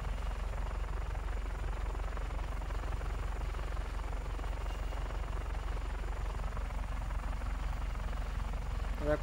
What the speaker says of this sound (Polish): Trzeba przyznać, że dosyć szybki ten śmigłowiec jest.